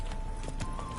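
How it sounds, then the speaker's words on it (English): Horse hooves clip-clopping in The Witcher 3: Wild Hunt, a brief run of several sharp, evenly spaced hoof strikes heard up close over a steady background hum, with no speech. "Spooking my horse."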